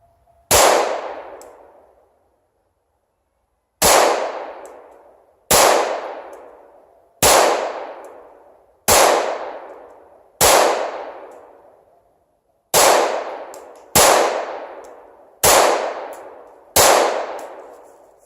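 Ruger SR22 .22 pistol shots striking a steel target, about ten sharp ringing clangs at an unhurried, slightly uneven pace, each with a bright metallic ring that decays quickly, loud and clear with no talking.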